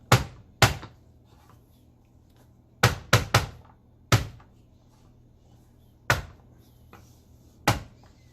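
Garlic cloves smashed flat with a knife on a cutting board while making Chinese egg fried rice, sharp isolated thumps landing one after another, some in quick pairs or triplets, close and alone with quiet pauses between.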